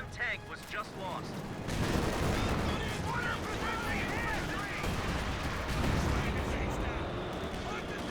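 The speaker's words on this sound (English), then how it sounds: "do you have the heavy bombing run being summoned in here?" Booming artillery-style blasts and crackling explosions from a heavy bombing run in Company of Heroes 2 rumble continuously, with loud bursts around the middle and end, layered with battlefield fire.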